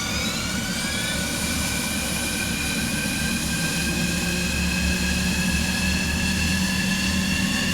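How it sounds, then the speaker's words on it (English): The second engine of a DC Designs F-15 Eagle starts in Microsoft Flight Simulator 2020. A loud, continuous jet roar carries high whining tones that climb gradually as it spools up, with no talking. "Let's start the next engine."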